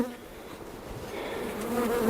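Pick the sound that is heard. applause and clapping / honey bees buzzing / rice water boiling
honey bees buzzing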